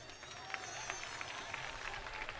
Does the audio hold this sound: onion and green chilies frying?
no